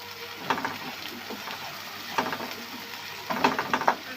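Onions with ginger-garlic paste frying in a pan, a soft steady sizzle with a few louder bursts of stirring scrapes at intervals, fairly quiet and close.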